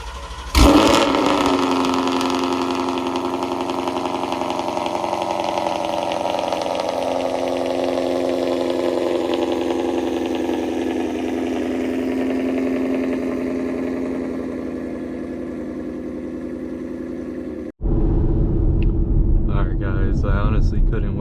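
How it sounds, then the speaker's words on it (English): A Ford Mustang GT with 305 tires rumbles loudly and steadily on a drive, its engine note drifting slowly as it cruises. The drone breaks off abruptly near the end, and another noisier stretch follows. "I honestly couldn't wait to go for a drive, so I took it out for a little spin."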